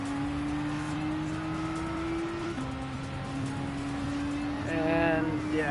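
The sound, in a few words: race car accelerating in Gran Turismo 7 video game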